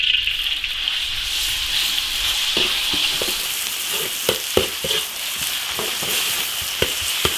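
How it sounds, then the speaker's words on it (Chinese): Pork belly stir-frying in oil in an iron wok: a steady loud sizzle with scattered clanks and scrapes of the spatula against the wok, close and without talk. "锅留底油炒肉"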